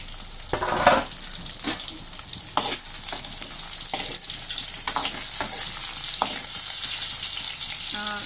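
Stuffed brinjal (gutti vankaya) fries in a pan with a loud, continuous sizzle, punctuated by several sharp scraping and clinking stirs near the mic.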